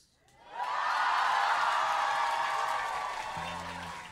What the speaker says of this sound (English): Basic politeness gets a cheer.